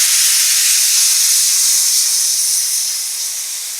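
A pressure cooker cooking rajma lets out a loud, steady hiss of escaping steam, broadband and continuous, easing slightly toward the end with no voices present.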